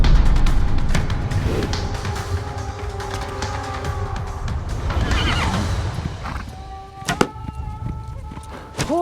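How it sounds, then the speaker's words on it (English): Horses whinny loudly and repeatedly in the medieval strategy game Age of Empires IV, with clip-clop hoofbeats and battle din underneath and a few sharp knocks toward the end. "Horse archers were elite troops who galloped into battle, shooting their bows from the saddle"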